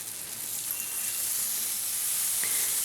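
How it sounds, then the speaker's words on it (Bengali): Jaggery is stirred into a jujube pickle in a hot pan with no water, giving a steady, bright sizzle and hiss from the frying mixture plus a faint scrape of stirring near the end. "এবার গুড়টাকে মিশিয়ে নিচ্ছি নেড়ে চেড়ে"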